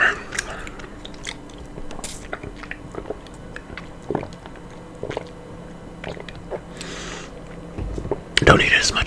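Burger King food being bitten and chewed up close, with wet crunchy bites and squishy mastication repeating steadily, while a soft whispering voice talks at times.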